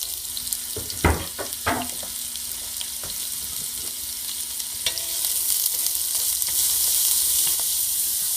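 Onions and garlic for a sofrito sizzle steadily in a hot pan, a continuous close hiss with a few sharper clanks and stirring knocks early on, growing slightly louder toward the end; no one speaks.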